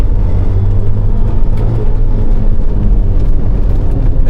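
A Suzuki Cappuccino engine drones loud and close, its steady revving rumble holding throughout as the small car accelerates.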